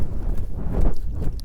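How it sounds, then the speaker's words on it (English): A horse walking under a rider during steering training, its hooves giving a steady, close clip-clop over a loud, rumbling background with no talk. "us being able to steer this horse around"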